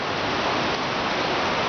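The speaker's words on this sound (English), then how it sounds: "It's been raining non-stop like this" Steady rain falling in Guaecá, a constant dense hiss that stays at an even level throughout with no gaps and no voices.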